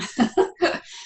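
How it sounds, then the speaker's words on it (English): A dog gives three quick, hoarse coughs in a row followed by a wheezy breath, close and fairly loud. "Sorry for my dog coughing. That's what that sound was."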